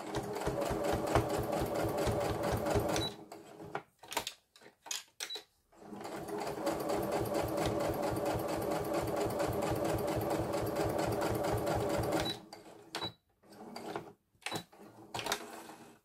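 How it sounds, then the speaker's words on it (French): A sewing machine topstitches 2-3 mm from the edge while making a cigarette case, running in two long, steady, close stitching bursts separated by pauses with a few clicks and handling noises. "je fais une surpiqûre à 2-3 mm du bord"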